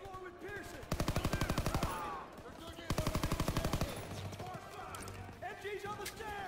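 Machine gun fire in the World War II shooter Call of Duty WWII, two sharp rapid bursts of about a second each with a shorter third burst, over game ambience and faint battlefield noise.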